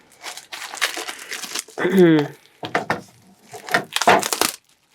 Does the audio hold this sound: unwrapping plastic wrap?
yes